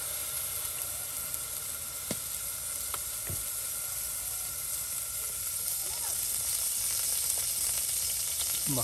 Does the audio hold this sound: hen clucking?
no